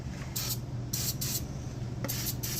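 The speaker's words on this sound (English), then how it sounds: "I've got the old PB Blaster white lithium grease spray here." Aerosol can of PB Blaster white lithium grease sprayed onto the shift gears of a Polaris Sportsman ATV, four hissing bursts of varying length, close and clear over a steady low hum, no talk.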